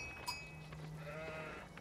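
A sheep bleats in the Age of Empires 4 strategy game, a short wavering cry under steady game ambience and background hum, moderately faint and alone without speech.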